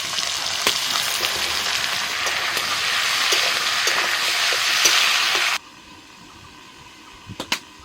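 Cubed potatoes and ridge gourd frying in a pan give a loud, steady sizzle with occasional spatula scrapes, then the sizzle drops off abruptly, leaving quieter clicks near the end.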